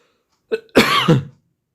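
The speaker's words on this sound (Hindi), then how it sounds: "खांसी आ रहा।" A short throat-clearing sound followed by a harsh, louder cough, close to the mic, with no talking.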